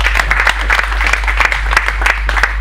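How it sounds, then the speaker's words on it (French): Applause from an audience at a prize announcement during a commemorative talk show, a steady wash of clapping over a low hum, continuous and fairly loud throughout. "On l'applaudit très fort."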